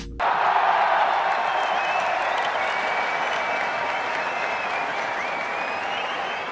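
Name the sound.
AI-generated stadium crowd cheering and clapping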